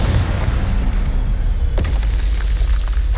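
A Confringo spell explodes in Hogwarts Legacy, a loud, dense blast that roars continuously through the whole stretch, with a sharp crack near the middle.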